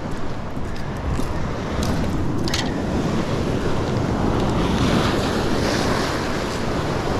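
Ocean waves washing over rocks on a shoreline during fishing, a loud, continuous roar of surf and churning water with wind noise buffeting the microphone, close and unbroken throughout.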